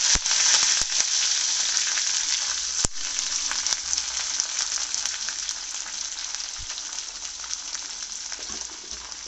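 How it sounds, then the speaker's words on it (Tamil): Onions and curry leaves frying hard in oil for Chettinad mutton chukka, a loud continuous close sizzle with occasional sharp ticks and spoon knocks throughout. "வெங்காயத்தை நல்லா வதக்கிக்கோங்க."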